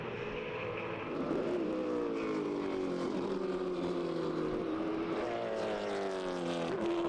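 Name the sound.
Corvette race cars on track, SCCA Runoffs Grand Touring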